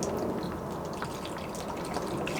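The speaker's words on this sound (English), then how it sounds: "we got a thing full of water, and we're just gonna dump it in there" Water is poured from a cut-off bottle taped to a fill hose into a van's water tank, a steady close gushing and trickling that lasts throughout.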